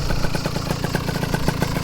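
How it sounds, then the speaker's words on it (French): A Derbi motorcycle fitted with a 70cc Metrakit kit idles close by with a steady, rapid two-stroke putter and a slight clattering rattle. "là je suis en plein réglage du ralenti"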